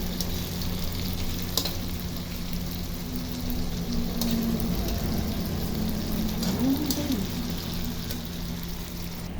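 Fern okoy fritters fry in hot oil, crackling and sizzling steadily up close with occasional bubbling bursts as they are flipped, under soft background sounds.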